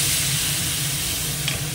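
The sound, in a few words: fish sizzling in pan as water is added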